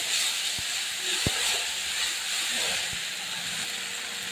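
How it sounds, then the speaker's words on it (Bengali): A ground paste of mustard, cumin and poppy seed sizzles in hot oil, a steady broadband hiss with a few soft clicks and pops, fairly close and even throughout. "তো একসাথে এই যে মিহি করে বেটে নিয়েছি, এটা আমি তেলের পরে দিয়ে দেবো। তেলে দিয়ে দিয়েছি।"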